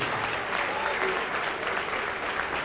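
Steady, dense applause from a church congregation, continuous hand clapping filling the whole stretch without pauses or voices standing out.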